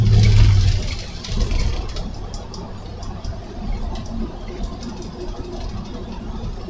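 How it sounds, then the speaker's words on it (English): A car engine idles in a jammed line of traffic, a steady low rumble running throughout with a slightly louder swell at the start, no voices over it. "Oh great, traffic is all tied up here."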